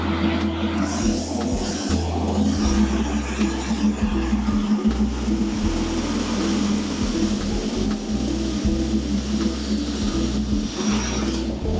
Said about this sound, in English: I know the audio is probably horrible because the engine is running